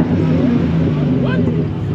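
A car engine rumbles and revs steadily up close for a couple of seconds, while people talk loudly over it the whole time.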